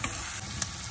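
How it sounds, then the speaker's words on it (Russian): Boiled meat frying together with onion in butter in a pan, a steady close sizzle with faint stirring, no voices. "теперь выкладываем его и жарим минут 5 вместе с луком."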